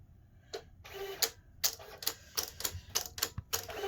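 Silhouette Cameo cutting machine calibrating with its optical eye, then cutting: a series of sharp mechanical clicks and whirring bursts in an irregular rhythm, close and fairly clear, with no talk.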